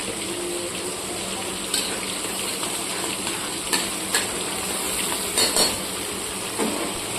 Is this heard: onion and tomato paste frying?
yes